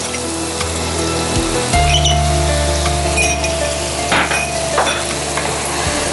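Crushed ginger, garlic, sliced onion and green chilli sautéing in oil in a pan, a loud close sizzle throughout with scraping stirs and a few sharp clacks of a utensil against the pan.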